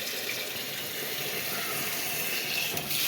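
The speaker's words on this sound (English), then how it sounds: "Put some water in the kettle." Tap water runs into a kettle in a steady hissing gush, close and continuous with a slight shift in tone as it fills, no voices over it.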